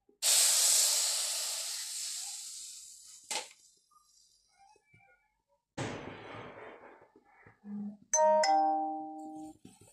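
Milk hits a hot kadai for jaggery tea with a loud burst of hissing steam that fades over a couple of seconds, followed by a few brief clatters, a second short hiss and some faint chiming tones.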